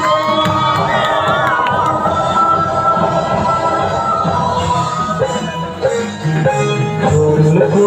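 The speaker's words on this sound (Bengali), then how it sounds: "ওর জন্য খুব জোরে তালি হোক" An audience cheering and clapping loudly for a child's acting performance at a stage event, a dense continuous crowd roar with whoops and shouts over music.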